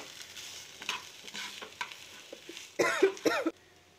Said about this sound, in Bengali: সুন্দরভাবে এটাকে নেড়ে চেড়ে হলুদটাকে মিশিয়ে নেব আলুটার সাথে।